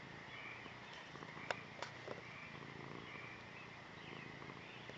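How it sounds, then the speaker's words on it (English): A cat's soft, low purr rumbles steadily throughout beside a burning outdoor rocket stove, quiet and close, with a couple of faint brief clicks partway through. "Can you hear the kitty purring?"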